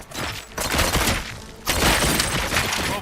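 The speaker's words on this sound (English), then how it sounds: "Gunshots? What's going on?" Rapid gunfire with crashing, shattering impacts in the video game RoboCop: Rogue City, a dense, loud barrage that surges twice with no pause between bursts.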